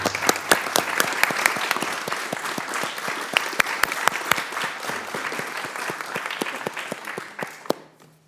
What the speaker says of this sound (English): I'd like to have a round of applause for a great guy